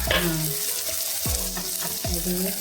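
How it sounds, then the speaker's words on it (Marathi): Tomato and onion fry in a pan with a loud continuous sizzle, stirred with a few scraping strokes of a utensil, close up. "आता टोमॅटो घालते।"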